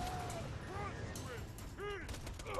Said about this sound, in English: I'm gonna throw a grenade at them.